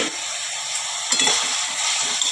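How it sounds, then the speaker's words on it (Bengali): Chichinga chechki, a dry snake gourd stir-fry, sizzles in a pan while a spatula turns it, giving a steady close hiss with a few soft scraping strokes. "এইভাবে খুন্তি দিয়ে নেড়ে নেড়ে দিতে হবে।"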